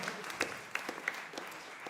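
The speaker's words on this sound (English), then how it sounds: "have a round of applause for Carmel High Secondary School" Faint, sparse applause for a school team at a constitution quiz grand finale, with a few scattered claps standing out from a soft room background.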